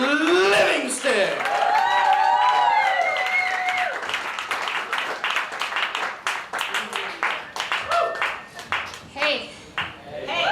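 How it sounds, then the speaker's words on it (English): Audience at a poetry slam event clapping and cheering for performer Aaron Livingston, dense close applause beneath loud excited shouting and whooping voices, tapering into scattered claps. "Start clapping your hands, start stomping your feet. Give it up for Aaron Livingston"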